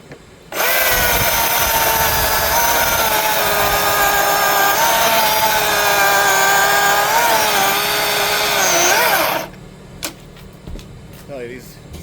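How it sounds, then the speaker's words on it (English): A Milwaukee power saw runs steadily and loudly for about nine seconds while cutting during tree trimming, then cuts off abruptly, leaving quieter outdoor background. "Tell you, these Milwaukee saws are something else. Nice and quiet, not damaging your hearing."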